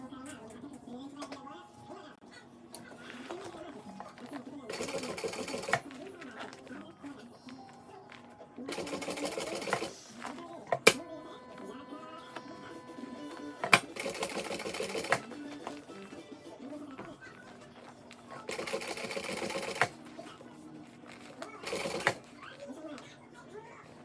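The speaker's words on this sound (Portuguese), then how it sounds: "vou vir aqui e vou costurar o meu viés" A sewing machine stitches bias binding around a heart-shaped bag, running in several separate bursts of rapid, steady whirring stitches with pauses between, fairly close, while someone talks quietly in the gaps.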